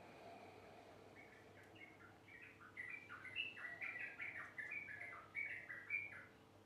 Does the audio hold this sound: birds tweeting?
yes